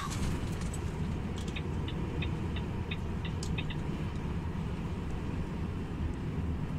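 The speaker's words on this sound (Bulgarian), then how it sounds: "толкъв звук извади с мотора" A motorcycle engine drones steadily on the road, a continuous low rumble with broad road and wind noise that stays even throughout, with no voices.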